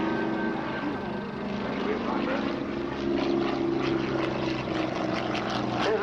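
A propeller aerobatic airplane performs a flick roll at an airshow, its engine droning and shifting in pitch as it maneuvers, heard beneath someone narrating.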